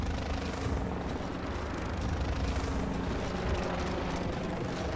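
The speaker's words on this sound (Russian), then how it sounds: "Так, мы на вертолете." Helicopter flight in the video game Tom Clancy's Elite Squad: a steady, loud rotor and engine drone fills the whole stretch as continuous broadband rumble, with no talk over it.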